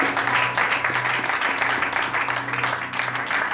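Church congregation applauding during a sermon, a steady dense wash of clapping from many hands that holds throughout, with a low hum and faint voices underneath.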